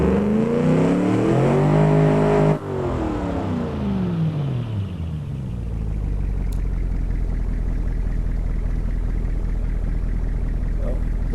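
Chevy LS1 V8 engine on a dyno test in the Automation game, revving steadily upward in a loud, sweeping run, then cutting off and settling into a low, steady rumbling drone.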